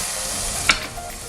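Curry ingredients for a vegetable lamb curry sizzling in a pan, a soft steady frying hiss with a brief sharper crackle or stir partway through.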